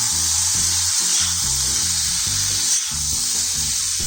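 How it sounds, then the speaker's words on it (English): Paneer cubes stir-frying in a pan over high flame give off a loud, steady hiss of hot oil with a constant sizzle that never lets up, close to the ear and without any speech. "Let's add in dices of paneer and stir fry this on high flame"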